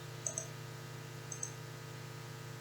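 Two quick pairs of soft mouse clicks sound about a second apart during CAD work, faint and close over a steady low electrical hum.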